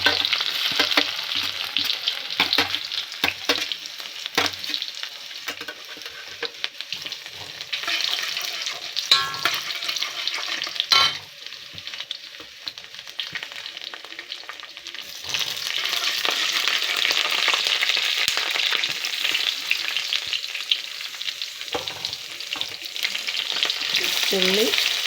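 Ginger and garlic frying in hot oil for chicken curry, a loud close sizzle with rapid crackling pops and frequent stirring scrapes that swell into a dense steady hiss in the second half.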